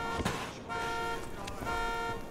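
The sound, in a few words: car alarm from car trap in Dying Light video game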